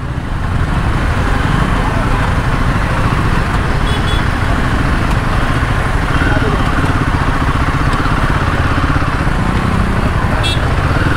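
Royal Enfield Himalayan 450 adventure motorcycle riding on the road, a steady loud engine and wind roar continuing throughout with road noise, and a rider talking over it.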